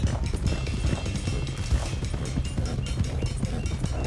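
Horse hooves pound in a fast, continuous gallop in the video game Red Dead Redemption 2, loud and close over a dense, rumbling game soundscape.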